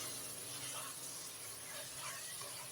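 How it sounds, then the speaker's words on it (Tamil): Mutton sautéing in hot oil with onion and tomato for a mutton kuzhambu: a steady, even sizzling hiss, close and continuous, with no talking. "இதில் சேர்த்துட்டு இந்த வெங்காயம் தக்காளியோட ஒரு 5 நிமிஷம் போல் அந்த மட்டனை வந்து இதில் நல்லா வதக்கி விட்டுருங்க"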